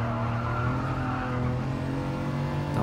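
BMW M4 Safety Car driven in Gran Turismo Sport, a steady droning engine note with layered harmonics, moderately loud and continuous, with no talk over it.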